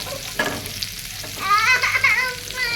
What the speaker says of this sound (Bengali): মরিচটা ভাজা হয়ে গেছে, এখন পেঁয়াজটা দিলাম।